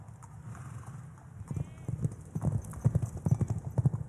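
Hooves clip-clop steadily on a hard surface, growing louder and more regular as the horse walks closer.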